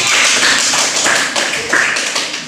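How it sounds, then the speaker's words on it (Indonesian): A classroom group claps together in a steady burst of applause, close and fairly loud, fading slightly toward the end. "tepuk tangan untuk Salwa jawabannya"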